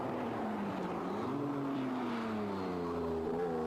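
A race car at the Pikes Peak hill climb, its engine droning steadily at a distance, the pitch rising slowly through a long sustained pull, with no talk over it.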